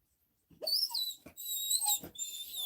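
A dog whimpers in a yard, a run of high thin whines and squeaks after a moment of silence, close and fairly loud with no talk.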